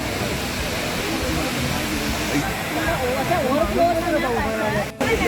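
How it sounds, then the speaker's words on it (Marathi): Amboli Ghat waterfall in the Konkan hills, busy with visitors: a broad, steady roar of falling water close by, with voices talking over it. "असा हा आंबोलीचा धबधबा"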